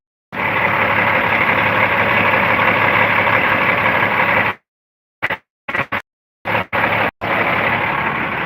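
An old dump truck's engine idles loud and steady at close range, a continuous low rumble that cuts out abruptly partway through and returns in a few short bursts before settling back into a sustained idle.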